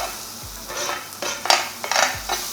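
Garlic butter sizzles in a hot pan, a close steady fry with a few scraping stirs and light utensil clinks, no talking.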